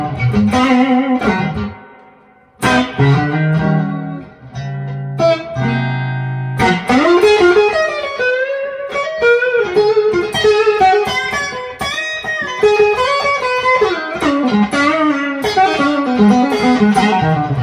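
An electric parts-caster guitar built from pre-CBS, Kingtone, MJT and Custom Shop parts, played solo through effects, with sustained chords and then quick melodic runs, loud and close with a processed, shimmering tone and no talking.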